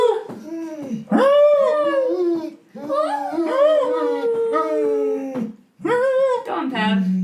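Pavlov the dog lets out long, rising and falling howls with brief whimpering breaks, loud and close across several drawn-out cries.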